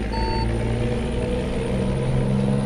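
A truck reverses with an idling diesel engine rumbling steadily nearby, while a brief high reversing beep sounds at the start.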